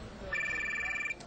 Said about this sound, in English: That's somebody's phone, right by our microphone.